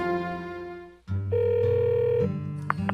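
A cell phone placing a call in the Hardy Boys video game, a steady electronic tone that cuts off and gives way to a sustained ringback-style tone with a few short beeps, and no speech.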